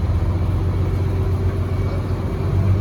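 A boat's main marine engine at Muttom Harbour in Kanyakumari rumbles steadily up close with a low, even drone and slight swells in the low end.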